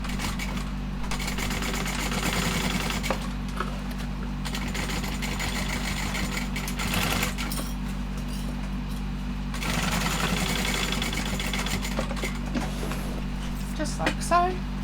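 A sewing machine stitches shoulder bag pieces together in steady continuous runs, with brief pauses, under a constant low motor hum and a person talking over it.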